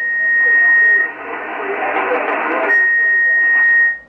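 Amateur radio receiver tuned to a distant station, a steady carrier tone running alone for about a second, then a loud band of noisy signal, then the carrier tone returning for roughly a second more before cutting off.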